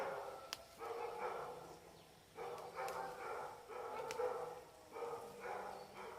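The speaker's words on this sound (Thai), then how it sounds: "ไม่เห่าอย่างเดียวนะพี่น้องหอนด้วย" A dog barks and howls repeatedly at moderate distance outdoors in the rain, its voice stretching into drawn-out, howling cries between rougher yelps.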